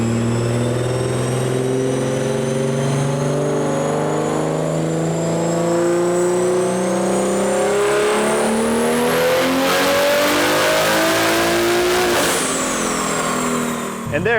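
A BMW G80 M3 on a dyno with a JB4 Pro on custom Map 6 at 48 psi boost makes a full-throttle pull, its engine roaring loudly and steadily rising in pitch through the gears before cutting off at the end.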